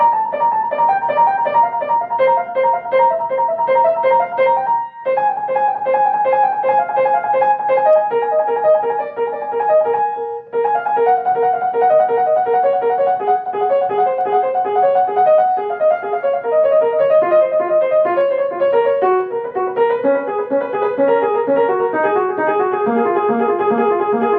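Solo piano plays a rapid, dense run of notes in the upper register, continuous and loud for the whole passage with only two brief breaks.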